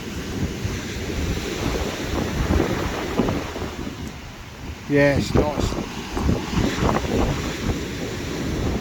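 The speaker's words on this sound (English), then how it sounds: "Listen to the waves crashing" Waves break on a Scottish beach during a camping trip, a continuous rumbling surf roar buffeted by wind noise, with a sharper surge midway. A person speaks briefly over it.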